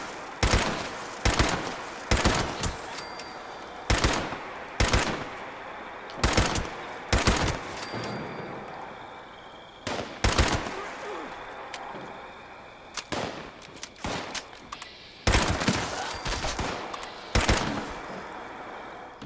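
A Berserker explosive pipe rifle fires in short bursts in Fallout 76, loud sharp cracks grouped in quick clusters with brief pauses between them, continuing throughout with no talking over the shots.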